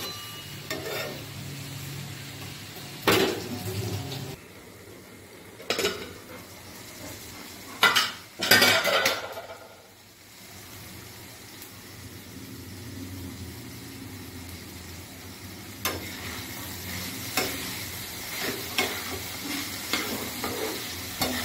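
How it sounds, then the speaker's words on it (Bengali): Green peas fry on a low flame in a pan, a soft continuous sizzle broken by several spoon scrapes and clatters as they are stirred, including a louder burst of stirring midway. "এবার এটাকে ভাজতে থাকবো হালকা আঁচে কিছুক্ষণ, যতক্ষণ না সেদ্ধ না হয়।"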